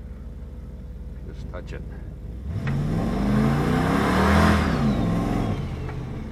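A boosted 408 LS V8 car on slick, low-grip tires builds into a burnout, the engine revving up loud and rising in pitch before easing off, with a brief voice speaking beforehand.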